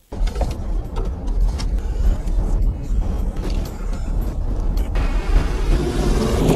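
A car drives through open desert in a film scene, a steady loud engine and road rumble filling the whole stretch, with rushing wind noise and no voices.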